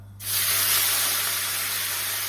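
Sudden loud hiss as canned tomatoes and their juice hit a hot pan, a steady sizzling spray that continues without pause, close by.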